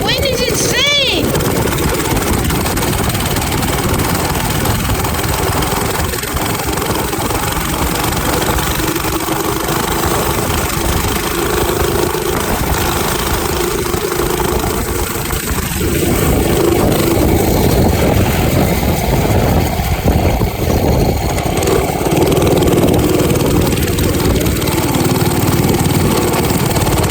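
A minibike engine runs continuously while riding around outdoors in strong wind, a steady mid-pitched drone that varies in speed, with a voice talking over it and heavy wind noise throughout.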